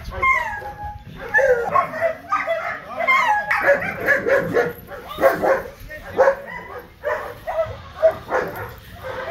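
Rottweiler dogs barking and yipping in repeated bursts during a training session, fairly close, mixed with people talking in the background.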